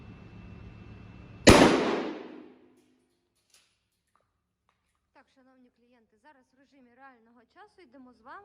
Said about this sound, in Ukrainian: стріляти будемо з відстані 20 метрів дріб'ю